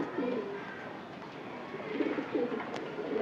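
Pet pigeons give soft, low coos in a couple of short rolling phrases, fairly faint over a steady background hiss.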